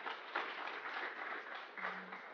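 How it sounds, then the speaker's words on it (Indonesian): Graduation audience at a university ceremony applauding, a faint, steady wash of clapping heard from a distance. "Tepuk tangan untuk kita semuanya."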